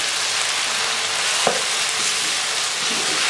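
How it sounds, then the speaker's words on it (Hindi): Chicken karahi fries in a pan with a dense, constant sizzle and occasional soft stirring knocks, loud and close with no talk. "अब हम इसको पकाते हैं, इसको भूनते हैं अच्छी तरह।"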